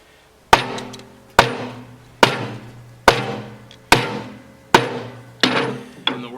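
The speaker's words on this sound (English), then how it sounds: "I'm going to beat this side with a hammer." Heavy hammer blows on a Piranha steel tooth bar fitted to a Kubota B2601 loader bucket blade, eight evenly spaced, loud metallic strikes, each ringing briefly before the next.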